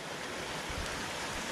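Rainwater runs steadily after a short downpour at a utility installation site, a continuous broadband wash of flowing water with no voices over it.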